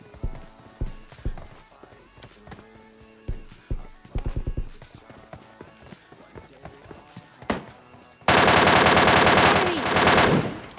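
Gunfire in the mobile shooter PUBG Mobile Lite comes as scattered single shots and short bursts, with footsteps between them, then ends in a loud, sustained burst of automatic fire.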